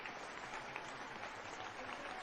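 An audience at a DXN business seminar gives a faint, steady round of clapping heard from a distance, with no voices above the applause.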